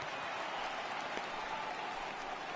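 Steady rain falls over a ballpark in the baseball video game MLB The Show 18, a dense, even hiss of drops that holds at a constant level for the whole stretch, with no voices over it.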